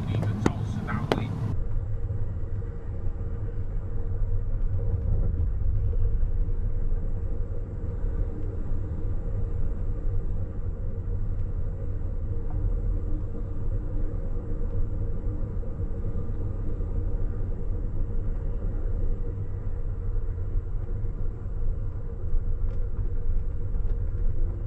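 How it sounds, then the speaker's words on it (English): A train passes in the opposite direction while an Amtrak train waits on the line, making a loud, continuous rumbling roar that holds steady for the whole stretch after a brief sharp noise at the start. "We had to wait here to let a train in the opposite direction pass us."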